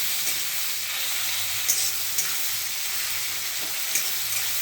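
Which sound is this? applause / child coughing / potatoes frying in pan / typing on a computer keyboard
potatoes frying in pan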